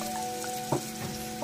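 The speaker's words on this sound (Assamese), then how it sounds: "এইখিনি ব্ৰাউন কালাৰ নোৱালৈকে ভাজিব লাগিব চিৰ আদা নহৰুখিনি দি দিছোঁ" Ginger and garlic frying in a pan for a raw banana dish, a steady close sizzle with a couple of soft stirring knocks, no voices.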